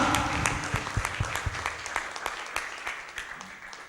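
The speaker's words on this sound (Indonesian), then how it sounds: "Ya, kita tepuk tangan" Audience members at a science club talk on the brain and altruism break into applause, many hands clapping close by with some distinct sharp claps, the sound gradually easing off toward the end.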